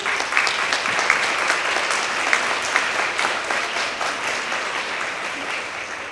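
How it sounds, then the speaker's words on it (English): Steady, dense applause from an audience at an international student graduation celebration, a broad crackle of many hands clapping continuously at close range with no talk over it. "Let's give them a big round of applause, please."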